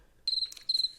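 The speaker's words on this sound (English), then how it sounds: "crickets." Two bursts of high, thin cricket chirping, close and clear against quiet background.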